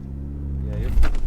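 A 2018 Ford Focus ST engine rumbles steadily and then rises in pitch as the driver gives it gas, with people talking over it inside the car.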